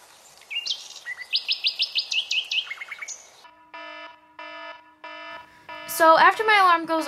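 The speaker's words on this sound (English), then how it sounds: "So after my alarm goes off about the second or third time" An alarm going off, a chirpy electronic melody of quick repeated tones followed by a steady beeping pattern and a bird-like warbling sound, close and clear with no talk.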